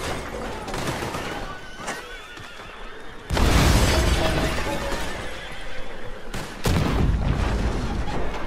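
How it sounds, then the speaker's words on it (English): Dynamite blast in Red Dead Redemption 2 Online during a legendary bounty, loud booming bursts landing twice in quick succession with broad crackling debris noise, mixed with horse whinnies and game clamor. "let's just throw some dynamite in there"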